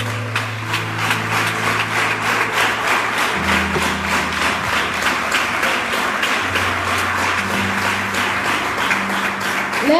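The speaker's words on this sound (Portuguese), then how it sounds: "Aplauda esse Deus." A church congregation applauds during a sermon, with loud, even, rhythmic clapping from many hands over low sustained keyboard notes that shift pitch in the background.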